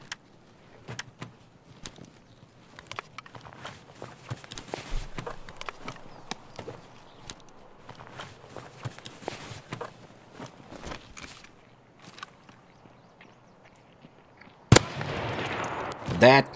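Footsteps of an AI scav approaching in Escape from Tarkov, a run of irregular soft clicks and scuffs over a low hum, ending in a sudden loud burst of broadband noise near the end.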